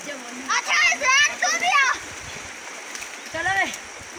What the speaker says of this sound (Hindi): इस पानी में बच्चे नहा रहे हैं तालाब में।